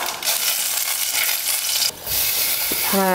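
Mustard seeds, urad dal, asafoetida and dried red chillies crackle and sizzle in hot oil, tempering for rasam, a loud continuous hiss up close with a short dip midway and faint clinks near the end.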